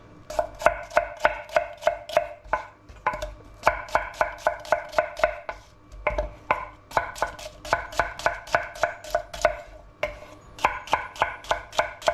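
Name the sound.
chopping onions, shallots and peppers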